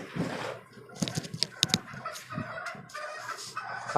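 Chickens on a poultry farm, freshly bought birds among the flock, cluck in quick, overlapping bursts close by, with a few sharper squawks rising over a busy, continuous murmur of fowl.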